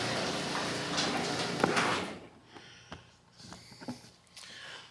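A Mo-Door opener raises a garage door, starting with a loud rolling slide that fades into softer clicks and knocks as the door finishes moving.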